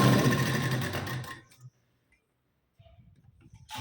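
A sewing machine stitching a blouse runs in a loud, busy whir for about a second and a half, then cuts off into near silence before faint low mechanical handling noises return.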